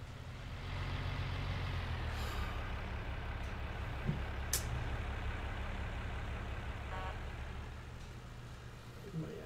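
A truck engine rumbles steadily in the Farming Simulator 19 video game, a low continuous drone with a few faint clicks and mechanical squeaks over it.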